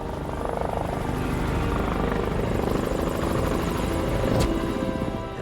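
Rescue helicopters fly close overhead above a cliffside ridge, and their rotor chop is loud and steady throughout, swelling slightly near the end.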